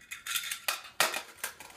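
A metal inner pot holding about 3.5 cups of food is lowered into an Old Faithful Flameless Geyser heating unit with water inside, giving a handful of close, light metallic clinks and scrapes in quick succession.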